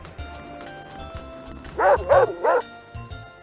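Several dogs bark in a quick burst of three loud yaps from a sled dog team in The Hoobs PS1 video game, set against soft background music.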